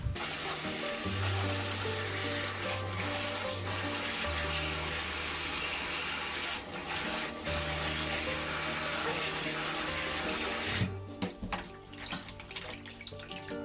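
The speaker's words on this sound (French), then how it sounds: "Donc là on va mettre de l'eau vraiment tempérée, plutôt froide que tiède quoi." Cool tap water runs steadily into a sink for washing lanolized wool, a continuous broad rushing that holds fairly loud before cutting off near the end, leaving a few clatters.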